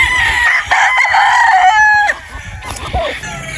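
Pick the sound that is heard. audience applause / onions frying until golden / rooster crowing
rooster crowing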